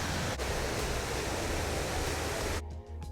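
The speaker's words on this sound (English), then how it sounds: "The sound of the rushing river flows you the entire way" Rushing river water flowing through Johnston Canyon, a loud, dense, continuous roar heard close by, cutting away sharply near the end to quieter background.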